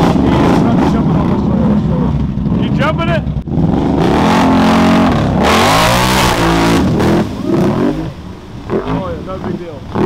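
Can-Am Outlander ATV engine revving hard as it tries to jump onto a trailer at a mud event, with loud rising and falling throttle bursts near the listener and people shouting over it.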